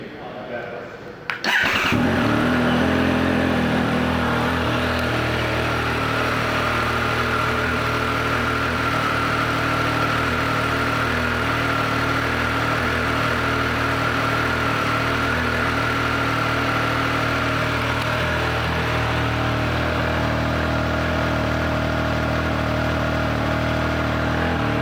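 A 2022 Triumph Speed Triple 1200RS motorcycle starts up and then idles steadily, a loud close engine rumble holding for over twenty seconds, with someone speaking briefly.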